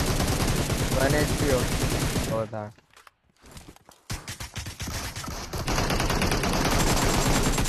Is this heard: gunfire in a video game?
yes